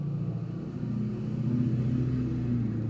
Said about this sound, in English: I'm letting the truck pass, guys.